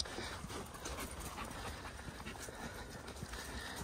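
Dogs panting steadily on a mountain hike to Pico do Lopo in Extrema, Minas Gerais, close and continuous over a noisy outdoor background, with no talking.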